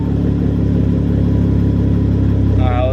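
Ford Mustang 3.7 V6 idling after a GT500 throttle body install, a steady low engine hum close by, with a short rise in pitch near the end.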